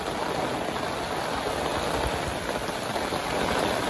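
Steady, dense rain pours down outdoors during Typhoon Carina on a fishing outing, a continuous loud hiss with drops drumming on an umbrella and nearby surfaces, no voices.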